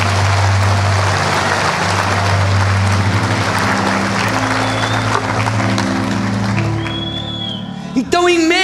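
Church congregation applauding Jesus during a Portuguese-language worship service, a loud sustained wash of clapping under a droning keyboard chord, thinning near the end as a voice comes in.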